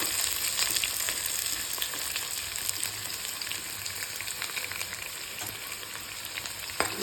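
Chopped onions and curry leaves fry in oil for chenna masala, a constant soft sizzle with fine crackles and a sharp pop near the end, heard close and without voices.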